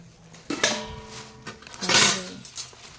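Kitchen utensils and pot holders in a new home are handled, giving two bursts of metallic clattering and clinking, one with a sustained ringing tone, close and fairly loud.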